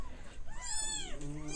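Tiny orphaned kitten about one week old mewing in a few thin, rising cries, close and fairly clear over a light background murmur.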